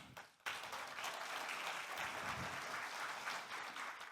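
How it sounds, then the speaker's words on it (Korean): An audience at a regional energy forum lecture applauds the county governor, a burst of clapping that starts abruptly and continues steadily and fairly close for a few seconds. "다시 한번 박수 한번 부탁드립니다"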